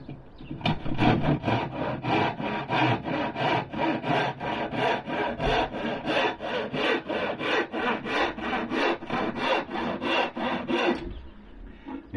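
A hand saw cuts through wood clamped firmly in place, its steady back-and-forth strokes rasping close and loud in an even rhythm for about eleven seconds before stopping.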